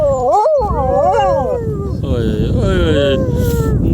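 A husky howls in long, wavering, sliding tones as if singing, loud and close, with people talking and whistling along underneath.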